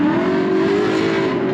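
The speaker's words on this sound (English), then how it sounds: "It's a Corvette that's been drifting today." A Corvette drifting at a car show drift event roars loudly and close, engine holding a strained high rev that climbs slightly throughout, with a rough tire-and-exhaust rasp underneath.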